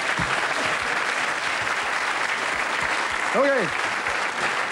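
A studio audience at a Dutch television comedy show keeps clapping, loud and sustained, with a short spoken word and a brief rising electronic whistle near the end.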